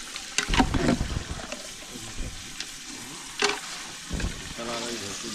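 Village-style mutton cooking in a large batch, meat frying and being stirred in hot oil, with bursts of sizzling and scraping that swell and fade at intervals, a faint voice and hum in the background.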